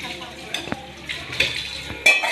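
Dishes and cutlery clink and scrape in scattered knocks nearby, as if being washed and stacked, with a few sharp clatters.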